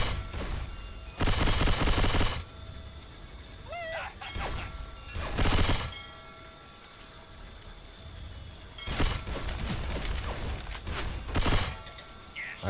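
Video game gunfire from Left 4 Dead 2 erupts in several loud, broad bursts separated by quieter game ambience, the shots clustering in short rapid volleys at a moderate distance.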